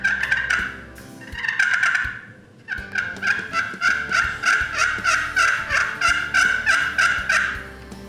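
A slate turkey call, its surface freshly buffed with 220 grit sandpaper, gives out a close, loud run of rhythmic yelps after a brief opening burst, with no talking.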